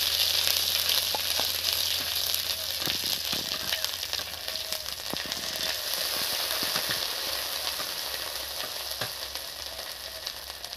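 Cloves, ginger and green chili paste fry in a hot pan, giving a steady, close sizzle that runs the whole time, with scattered crackles and a few light stirring clicks and no voices.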